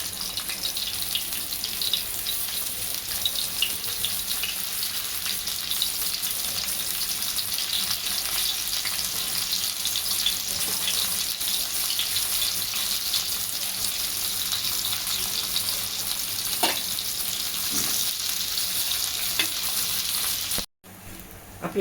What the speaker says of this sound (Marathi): आपले कारल्याचे सर्व काप अशा लालसर रंगावर खरपूस तळून झालेले आहे